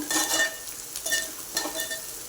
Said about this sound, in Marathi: यामध्ये ते लाल रंगाचं होईल परतायचं याला कांद्याला